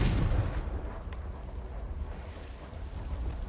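Confringo blast spell going off in Hogwarts Legacy: a sudden fiery burst at the start that fades into a rumbling, crackling tail lasting a few seconds, loud and close, with no talk.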